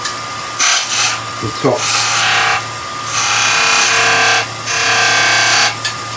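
Skew chisel rounding over half beads on wood spinning on a lathe, heard as several bursts of hissing cutting noise over a steady motor hum, with a voice talking between cuts.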